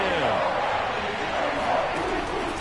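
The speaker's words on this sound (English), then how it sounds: "Crowd getting in it a bit already." Stadium crowd roar in a Madden football video game, a loud continuous wash of cheering that holds steady through the whole stretch, with no distinct voices standing out.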